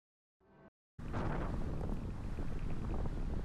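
Strong wind roars across the microphone outdoors on race day at the Zandvoort circuit, a steady loud rush after a short faint burst and a brief gap, with no talk over it.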